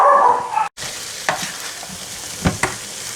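White stalks of bok choy get stirred through a hot pan for a corned beef casserole, giving a steady sizzle broken by a few sharp spoon scrapes over about three seconds, with no talking.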